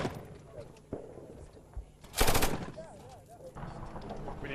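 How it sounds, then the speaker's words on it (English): Gunfire from a rebel position crackles in bursts, with one loud, sharp volley near the middle and scattered distant shots around it over outdoor background noise. "And this is one of the rebel positions, and they're just going to start firing off."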